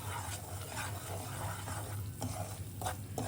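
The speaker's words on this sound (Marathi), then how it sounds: "राजगिऱ्याचं पीठ आहे ना ते टाकणार आहे आणि छान तुपावरती भाजून घेणार आहे" Amaranth flour roasts in ghee for a fasting sheera, a steady close sizzle with a spoon stirring and scraping the pan in regular strokes, continuous and without talk.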